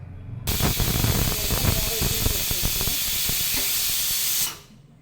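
A loud, steady hiss of steam rushes out after a brief quiet start, holding strong for about four seconds before cutting off abruptly.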